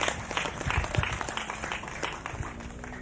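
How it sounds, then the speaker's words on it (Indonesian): Church congregation applauding during a sermon, a loose, uneven patter of clapping with a few sharper nearby claps, moderately faint and lasting throughout. "Sekali lagi tepuk tangan yang meriah bagi dia."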